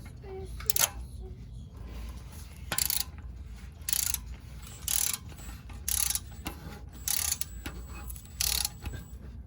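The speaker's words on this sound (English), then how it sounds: "I'm just gonna get these torqued back to specs real quick" Torque wrench on the exhaust bolts of an Acura TL, sounding as a series of sharp, evenly spaced ratcheting bursts about every second, close by, with low mechanical background noise between them.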